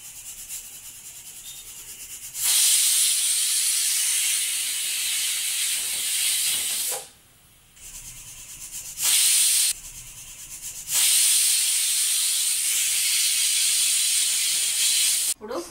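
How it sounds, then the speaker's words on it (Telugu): A pressure cooker on the stove releases a loud, rushing hiss of steam while carrots cook inside, in long bursts broken by short quieter pauses. "ఇప్పుడు మనము 3 to 4 విజిల్స్ వచ్చే వరకు ఇలాగే ఉడికించాలి ప్రెషర్ కుక్కర్ లో."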